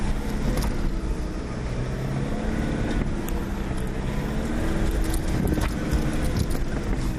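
An engine drones loud and steady as a vehicle works through a fast U-turn on a test track, with a low rumble and wind noise throughout and no voices.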